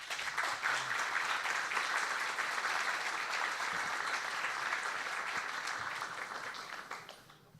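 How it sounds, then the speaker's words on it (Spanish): An audience at a territorial planning seminar claps for a panel guest, a sustained wash of applause at moderate distance that holds steady for several seconds and then fades away near the end. "para quien pido por favor un aplauso"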